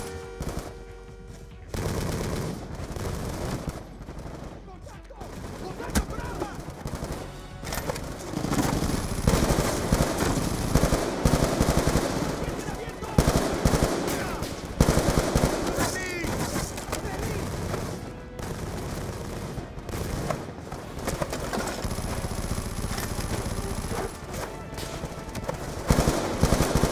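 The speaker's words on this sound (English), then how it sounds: "Taking fire from the balcony!" Sustained gunfire in the video game Call of Duty Black Ops 2: dense bursts of automatic fire and loud shots with occasional booms, nearly continuous and close, with voices shouting over the battle.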